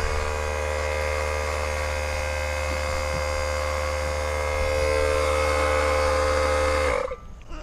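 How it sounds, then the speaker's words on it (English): A small air compressor feeding an airbrush for aircraft dope painting runs steadily with a loud motor drone and hum, then cuts off just before the end. "I might want to get a different compressor."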